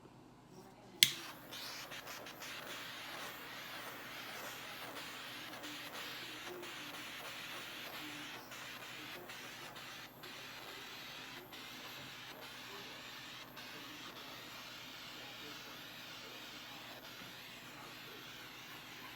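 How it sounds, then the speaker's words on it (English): Steady hissing roar of a handheld torch flame played over a poured acrylic paint surface, starting with a sharp click and continuing as a close, even rush with faint crackles. "So now I'm gonna give it a little bit of a torch"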